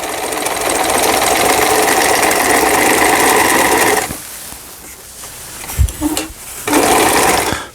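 A Janome 890 sewing machine runs loud and close, sewing quilting stitches in a steady whir for about four seconds, then stops, with a few clunks before a shorter burst of stitching resumes.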